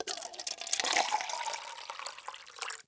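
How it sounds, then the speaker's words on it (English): Liquid being poured in a short sound sample used as abstract percussion, a close gurgling splash that swells quickly and trails off within a few seconds. "Pour liquid."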